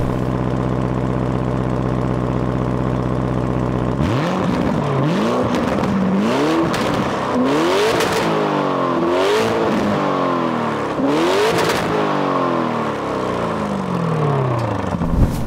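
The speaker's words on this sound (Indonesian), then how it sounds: "4 tailpipe yang mengeluarkan suara seperti ini" A Lamborghini Urus S with four tailpipes, first idling in a low steady rumble, then loud repeated revs rising and falling in sharp bursts with crackles between them, close and alone.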